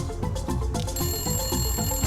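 A telephone rings repeatedly in a rapid, buzzing trill, close and fairly loud, with a steady bell-like tone sustained through the second half and no talking.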